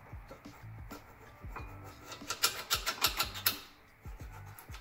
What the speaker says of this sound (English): scrape it up lightly with my screwdriver, just to make sure that the grooves are nice and clean